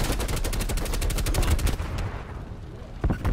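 Automatic gunfire in Call of Duty on the Nuketown map, a rapid, loud string of evenly spaced shots, then a pause and a few more shots at the end.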